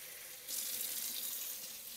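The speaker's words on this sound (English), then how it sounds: "I'm going to put more water." A kitchen faucet runs into a pot for lentil soup, its steady hiss rising sharply after a brief quiet start and continuing evenly at close range.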